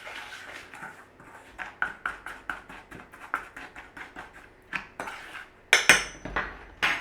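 Ground celery being mixed into salt with a spoon in a bowl. Rapid rhythmic clinks and scrapes of metal on the dish come up close, ending in a few louder knocks.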